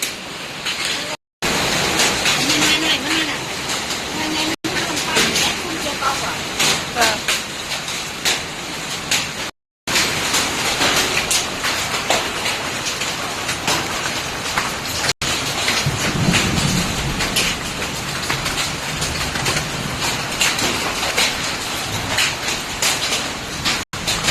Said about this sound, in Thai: อันนี้คือลูกเห็บนะคะกำลังตกใหม่ ๆ สด ๆ ร้อนๆ เลยค่ะ